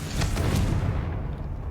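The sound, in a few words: Confringo blast spell explosion from video game Hogwarts Legacy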